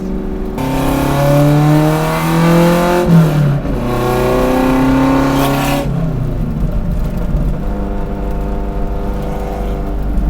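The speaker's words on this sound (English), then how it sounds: "And wait till you hear the backfires." Alfa Romeo GTV hot rod engine revving and accelerating loudly with a rising, harmonic-rich exhaust note that drops and climbs again; distinct backfire pops are not clearly evident.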